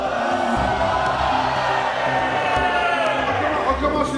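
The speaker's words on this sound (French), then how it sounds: "je vous demande d'applaudir et d'accueillir l'ogre de Sibérie" Audience cheering and applauding to welcome a performer on a French film set, a loud crowd roar with whoops and chatter mixed in, voices shouting over the din.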